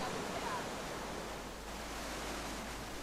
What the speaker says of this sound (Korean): 거대한 물의 흐름.